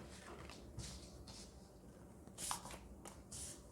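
Tarot cards are shuffled by hand, faint papery riffles and swishes coming in short bursts, with one sharper snap midway, quiet and close with no speech.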